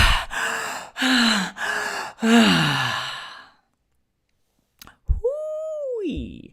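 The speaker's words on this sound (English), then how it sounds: "Just by slowing down your breath, and this is what it sounds like." Slowed, deliberate breathing for a tantric demonstration: several long, loud, breathy sighs in close succession, a pause of silence, then a sharp gasp and a drawn-out, voiced moaning breath, very near.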